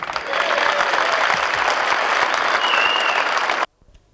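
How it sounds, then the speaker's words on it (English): Metal workers at a stop-work meeting break into loud cheering and applause, a dense crowd roar that cuts off abruptly near the end. "the Hunters metal workers couldn't stifle a cheer when they heard that Carrington Slipway's gates were to be reopened"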